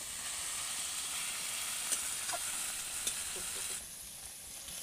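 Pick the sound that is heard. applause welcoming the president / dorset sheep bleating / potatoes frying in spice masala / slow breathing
potatoes frying in spice masala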